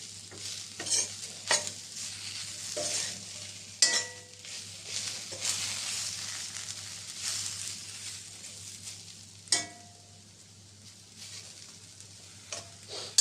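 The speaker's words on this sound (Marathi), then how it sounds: "आता मधून मधून एक दोनदा परतून घेऊ आपण" Stuffed okra shallow-frying in a pan with little oil, giving a steady soft sizzle broken by intermittent scrapes and light clinks of a spatula stirring and turning the pieces, close and without talk.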